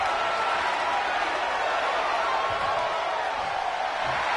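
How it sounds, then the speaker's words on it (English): Dense wrestling arena crowd roaring and cheering during a steel cage match, a steady, loud wall of noise with no break throughout. "The sound of this crowd is deafening, and he's asking for more."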